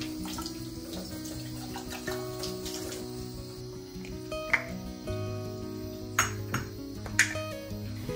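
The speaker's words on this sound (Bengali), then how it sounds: "এখানে আমার এই বটলগুলো ধোয়ার কাজ একদম কমপ্লিট" Glass spice bottles being washed under a running kitchen tap: a steady stream of water with occasional bright clinks and pings of glass knocking together, close and fairly quiet.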